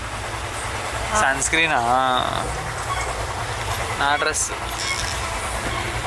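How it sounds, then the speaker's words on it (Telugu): Inside a moving train, a steady rumble and faint clatter of the carriage runs continuously while passengers talk and laugh over it. "ఇప్పటికి అంటే ట్రైన్లో పోతున్నాం ప్రస్తుతానికి."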